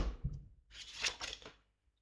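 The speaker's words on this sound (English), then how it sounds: "Just watch me shuffle cards for a sec." Tarot cards being shuffled by hand, a short close papery riffle and rustle lasting about a second after a few soft handling taps, quiet with no talking.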